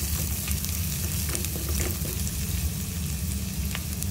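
Green chili and curry leaves tempering in hot oil for a Kerala-style pomfret curry give a steady, close sizzle and crackle throughout, with occasional sharper pops and no talk.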